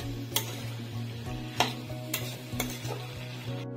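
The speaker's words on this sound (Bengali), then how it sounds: "আলু কুচি কটা দিয়ে দিই। নেড়ে চেড়ে 1 মিনিটের মতন ঢাকা দিয়ে রেখে দিব।" Chopped potatoes frying in a pan while being stirred, a low steady sizzle with several sharp scrapes and clinks of a spatula against the pan, close and quiet, no talk.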